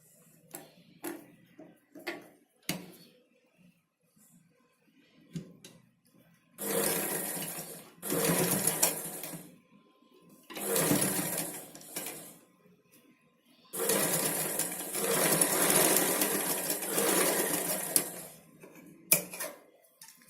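A sewing machine stitches the back neck of a blouse in several whirring runs of a few seconds each, loud and close, with light clicks and handling between them.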